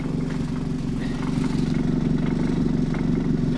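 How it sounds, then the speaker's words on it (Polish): A homemade cogeneration generator engine, its muffler weighted down with a brick, runs close by with a throbbing low hum; the idle lurches and wavers unevenly rather than holding steady. "Troszkę silnik nierówno chodzi."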